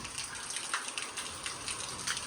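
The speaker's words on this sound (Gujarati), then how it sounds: "અટાણે જોરદાર મેં પાછો ચાલુ થઈ ગયો" Heavy rain pouring steadily in a village, a continuous hissing wash of falling water, moderately loud and even throughout with no voices.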